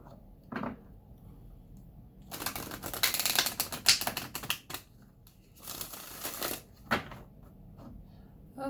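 Tarot cards being shuffled by hand, several fast riffling bursts of crisp flicking with short pauses and a few isolated taps, close and fairly quiet, with no talking.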